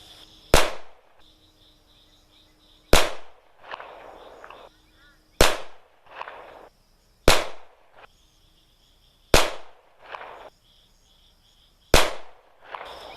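An Uberti 1873 Birdshead revolver fires six sharp, loud shots spaced about two seconds apart at a range, each crack trailing a brief echo, with faint outdoor background between.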